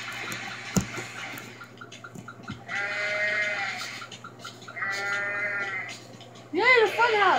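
Goats bleat in Goat Simulator, several wavering calls spaced across a few seconds over a steady low hum, with a louder cluster of bleats at the end.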